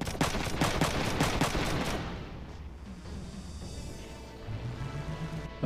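Rapid bursts of gunfire from the video game Front Mission 3, dense and loud for the first two seconds, then fading into a lower rumble with a rising tone near the end.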